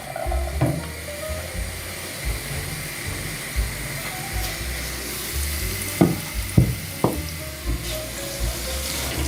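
Chopped onion drops into heated oil in a frying pan and sizzles with a continuous hiss, with scattered knocks and scrapes of a utensil spreading it around.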